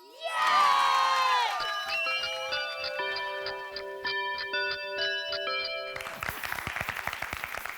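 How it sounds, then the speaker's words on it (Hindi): Group clapping and cheering from family and neighbours gathered for a night of antakshari, building loudly at the start, then giving way to a ticking, chiming musical passage and a burst of rhythmic claps near the end. "मेरा गाना सुनने के बाद भी इसी तरह ताली बजाना है भाई।"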